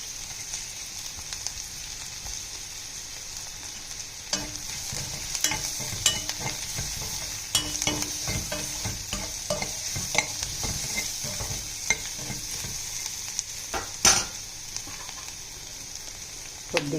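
Garlic paste sizzles and fries in a pan for a curry, a steady hiss broken by repeated scraping stirs and clinks of the spoon throughout, close and fairly loud.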